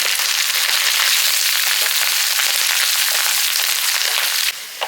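Dry red chillies, garlic and tamarind sautéing in a hot pan for Tamil chutney, giving a dense, steady crackling sizzle close up that drops away sharply near the end.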